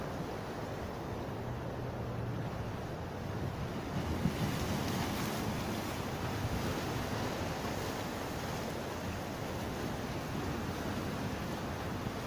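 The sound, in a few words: waves breaking on the Gulf shore on a foggy day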